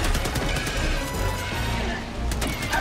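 Rapid sentry turret gunfire in Helldivers 2 rattles on continuously through the whole stretch, dense and loud with bursts of battle noise layered in.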